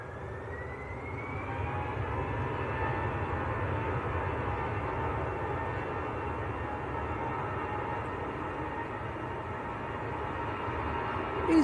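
EasyJet airliner at Manchester Airport, a steady moderately distant engine drone with a slowly rising whine, holding evenly throughout without voices.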